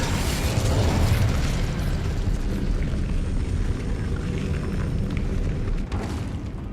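A fire spell cast in Hogwarts Legacy, a continuous roaring, crackling burst of flame with heavy low rumble that sustains loudly for several seconds before easing slightly near the end.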